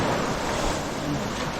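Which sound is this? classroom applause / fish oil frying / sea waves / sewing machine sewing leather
sea waves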